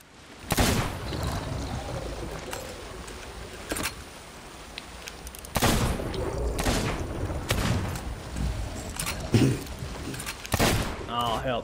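Booming cannon shots in Sea of Thieves during a megalodon battle, several heavy blasts spaced irregularly over roughly eleven seconds, with splashing and game ambience between them.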